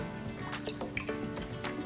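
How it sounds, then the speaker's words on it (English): Water poured into a cooking pot for tamarind candy, a close, steady run of drips and splashing fill sounds with no talk. "I'm gonna add a little bit of water first to my pot."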